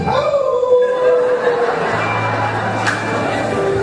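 A man preaching imitates a dog howling with a long, wavering, drawn-out vocal howl that slides in pitch, loud and close over a reverberant church hall.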